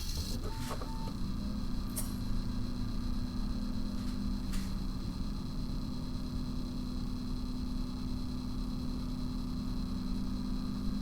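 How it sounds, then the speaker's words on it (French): A desktop PC's CPU cooler fan and the twin small fans of a GTX 750 Ti graphics card run together, a steady close whirring hum with a few faint clicks near the start. "Bah, vous allez entendre le ventirad."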